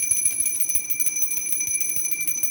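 A small brass puja bell rings rapidly and continuously during Gudi Padwa worship in a Konkan home, its bright, sustained metallic tones filling the space close by with no talking.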